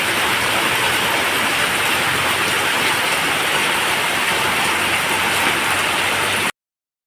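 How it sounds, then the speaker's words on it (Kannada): Dense, steady rainfall pattering on a surface, a broad continuous wash of noise that holds evenly before cutting off abruptly near the end. "ಮಳೆ ಸ್ವಲ್ಪ ಬಿಡ್ತಾ ಬಂತು"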